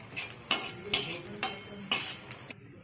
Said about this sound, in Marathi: मी तव्यावर तेल घेतलं आहे त्यात मिरच्या टाकल्या आहेत जिरं टाकलं आणि कांदा परतवायला ठेवला आहे आता आपण कांदा परतून घेऊया